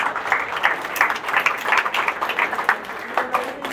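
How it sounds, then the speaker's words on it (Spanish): A church congregation claps together during a service, a moderate, fairly even patter of many hands with slight rhythmic pulses and a few faint voices underneath. "un aplauso a Dios por las mujeres"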